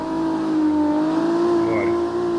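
A Toyota Mark II engine in the CarX Street racing game revs under load with a steady, droning tone, holding near and loud for the whole moment with a slight rise in pitch.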